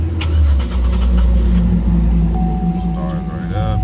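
A car engine runs with a low rumble while a voice speaks nearby; a steady whine rises near the end.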